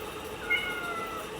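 A cat being pestered by a child lets out one brief, thin meow amid a steady low indoor hum, faint and close.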